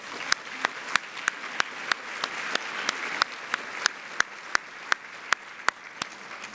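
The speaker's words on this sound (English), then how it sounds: "Let's give them all a round of applause." A luncheon audience applauds, steady crowd clapping held at an even level, punctuated by sharp regular clicks or taps roughly twice a second, with no talk over it.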